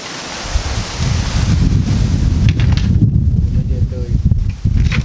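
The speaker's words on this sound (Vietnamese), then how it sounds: "có gió lắm mọi người" Strong gusty wind during rain buffets the microphone in a loud, continuous roar with low rumbling and a rustling hiss throughout.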